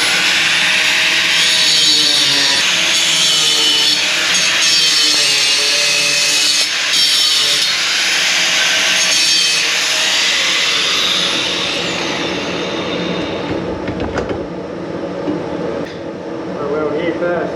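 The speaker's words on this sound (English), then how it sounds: "Now I've got to cut it back off because I forgot to weld the seam." Cutting through a welded steel seam on a boat trailer build, a loud continuous grinding whine that holds steady then winds down near the end, close and harsh.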